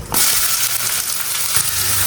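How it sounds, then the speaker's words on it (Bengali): Chopped onions hit hot oil that has been tempered with bay leaf, dried chillies, cumin and sugar, setting off a sudden, loud, close sizzle that holds steady, with a couple of brief stirring clinks. "ফোড়ন বাদামি রঙের হয়ে গেছে, এবার দিয়ে দেবো কেটে রাখা পেঁয়াজ।"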